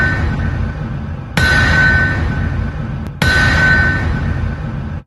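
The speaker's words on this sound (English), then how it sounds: "That is the sound of the anvil" A podcast's anvil strike sound effect rings out twice, each a loud metallic clang with a long sustained ringing tail, the second hit arriving about two seconds after the first, with no talking.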